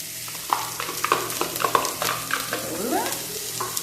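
Garlic and onion frying in a pan, with a steady crackle broken by scraping, stirring clatter, close and fairly loud with no talking.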